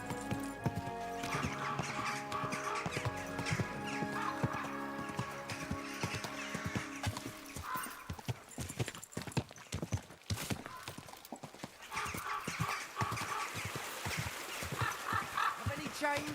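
Hooves clip-clop in quick bursts amid background music in Kingdom Come: Deliverance II, with a horse snorting and whinnying; a voice speaks briefly.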